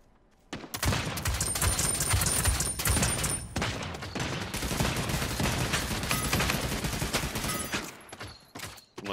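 Dense bursts of gunfire from the Realm Royale video game crackle loudly and almost without pause for several seconds, then fade toward silence.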